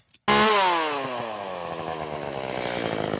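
A chainsaw starts up abruptly and runs loud and close, its engine note dropping as it settles into cutting during yard work, with no voices.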